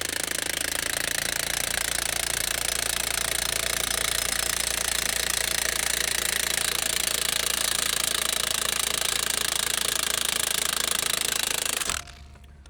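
An AGM scissor jack, likely power-driven, raises a Polaris Xpedition by its frame, giving a loud, continuous rattling drive noise that runs for about twelve seconds and then cuts off to quiet.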